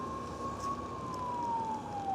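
Faint and distant, a fire engine siren on a Kerala road sustains a single gliding wail that slowly drops in pitch, half buried under steady traffic and wind rumble heard from a scooter.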